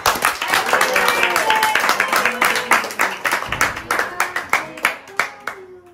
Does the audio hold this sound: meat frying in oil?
no